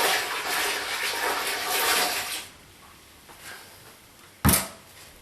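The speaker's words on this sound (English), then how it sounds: "There is the chloric, the bleach solution I used, and throw it in the toilet." Bleach solution poured into a toilet during beer kit brewing prep, a loud splashing rush of liquid for a couple of seconds, then quiet, ending with one sharp knock.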